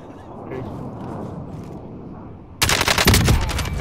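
Gunshots in Call of Duty on the Park map: a quiet ambient stretch is suddenly broken by a loud, rapid burst of automatic gunfire that continues to the end.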